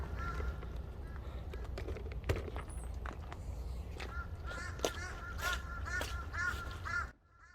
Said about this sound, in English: I don't know what the hell's going on with all these crows in the background.